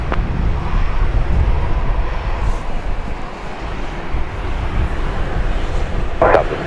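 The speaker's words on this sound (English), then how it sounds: "He's already clear for takeoff, going now." Southwest airliner taking off at Dallas Love Field, a steady broad jet roar mixed with wind buffeting on the microphone, loud and sustained, with a few thumps near the end.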